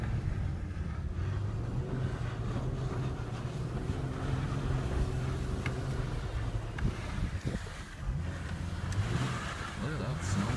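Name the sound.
Dodge Charger doing power spins in snowy yard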